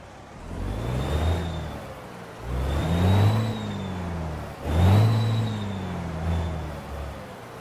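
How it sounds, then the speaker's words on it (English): Peterbilt 389 truck with a Caterpillar C15 engine in American Truck Simulator, parked at a truck service center, starts up and revs in three or four swelling pulses that settle back to a steady idle, loud and close. "Let's fire the truck up and have a listen"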